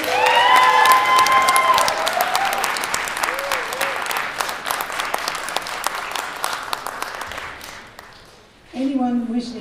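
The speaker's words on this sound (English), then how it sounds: "this very fine band deserves another round of really good applause" An audience applauds a secondary school senior concert band at a music festival, loud dense clapping that slowly fades, then a voice speaks near the end.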